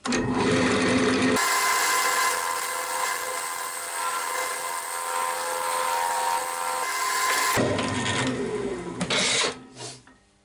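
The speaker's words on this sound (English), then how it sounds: "So I'm just going over with a skew chisel." A skew chisel cuts across the spinning edge of a padauk box lid on a wood lathe, giving a steady, loud whirring hiss that holds for several seconds before easing off, with the lathe's motor hum underneath.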